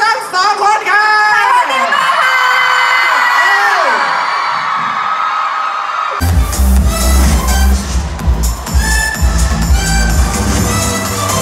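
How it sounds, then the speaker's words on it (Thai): Crowd at a T-POP concert on a university campus tour screams and cheers loudly and continuously, with high shrieks and whoops filling the space throughout. "ขอบคุณและขอเสียงกรี๊ดให้กับพวกเขา"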